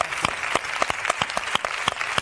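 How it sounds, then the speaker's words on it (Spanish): Studio audience applause on a 2004 Spanish television talk show, a steady run of sharp, distinct handclaps repeating fairly regularly, close and moderately loud, with no talk over it. "Y un aplauso para ti."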